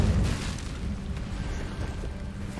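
A deep, rumbling fire blast from the Incendio spell in Hogwarts Legacy erupts with a heavy boom at the start, then rolls on as a steady low roar, loud and alone without voices.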